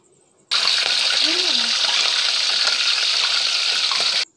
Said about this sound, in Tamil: இப்போ வந்து நம்ம இந்த மீனை பொரிக்க போகிறோம்.